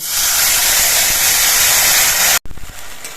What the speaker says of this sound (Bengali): এবার যে মশলাগুলো আমি পেস্ট করে নিয়েছিলাম আদা কাঁচা লঙ্কা টমেটো এই পেস্টটা দিচ্ছি